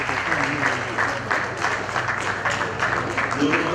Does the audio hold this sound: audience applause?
yes